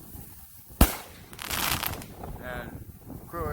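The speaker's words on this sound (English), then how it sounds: "And clearly, people are doing fireworks." Fireworks or firecrackers pop outside on a stormy July 4th evening: one sharp crack near the start, then crackling bursts at a distance. Faint voices murmur in the background.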